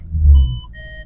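A low engine rumble, then a series of steady electronic tones from a Maserati's rear parking sensors in reverse gear, beeping close by with no talking.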